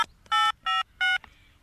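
A cartoon mobile phone being dialed gives three short, bright electronic keypad beeps in an even rhythm, clear and close, with a faint tone lingering after them.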